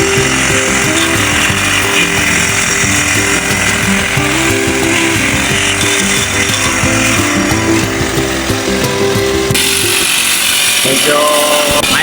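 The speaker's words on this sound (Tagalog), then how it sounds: "Gamit na po ni Tatay Henry yung nabili na grass cutter sa online." Grass cutter on a mountainside cutting weeds, with a loud, steady engine whine and buzzing drone running throughout at close range, its pitch shifting slightly under load and dropping near the end, with some talking mixed in.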